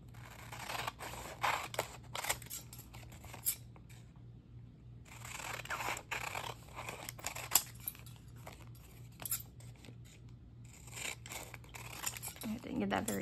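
Scissors snip and trim along a paper envelope for a bird-themed collage, repeated crisp cuts and rustling paper in bursts, close and fairly quiet over a steady low hum.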